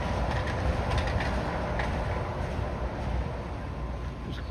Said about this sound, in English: I swear I could have sworn I heard a monorail just then.